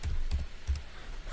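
Several quick keystrokes on a computer keyboard as a website address is typed, soft close clicks in a short irregular burst with no talking.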